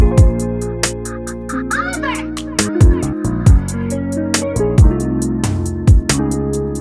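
A trap drum loop: booming 808 kicks with pitch drops, sharp snares, and rapid hi-hat ticks repeating in a steady pattern, loud and close.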